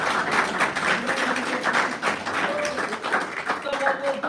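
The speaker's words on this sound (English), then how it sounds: "let's give a round of applause now." Scattered clapping from a small audience at a Chicago media school Q&A session, moderately loud and uneven, with a voice speaking over it.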